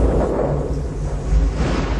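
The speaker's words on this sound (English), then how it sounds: "All those churning clouds have sparked an electrical storm." A deep, continuous rumble of thunder from an electrical storm in Jupiter's Great Red Spot, heavy and booming throughout with no pauses.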